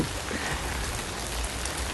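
Steady rain falls at Royal Phuket Marina in Thailand, a dense, even patter hitting nearby surfaces at constant loudness, with no voices over it.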